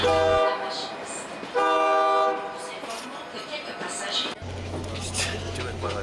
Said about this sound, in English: From the observation car we watch as trains roll out of the city of Puno.